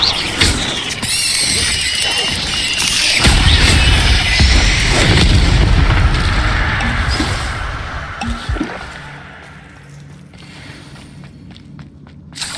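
Incendio fire spell cast in the Hogwarts Legacy video game, a loud whooshing burst with deep rumbling booms and crackle that swells mid-clip, then fades to quieter ambience and scattered clicks.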